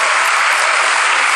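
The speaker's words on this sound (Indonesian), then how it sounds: "Tepuk tangan buat anak-anak muda." Loud, dense applause from an audience in a hall, a continuous wash of clapping throughout with no gaps.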